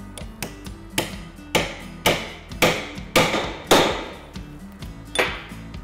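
A hammer tapping a socket to seat a Dynatrac HD ball joint on a Jeep Wrangler JK, with about ten sharp, ringing metallic strikes at a steady, close rhythm and no talk.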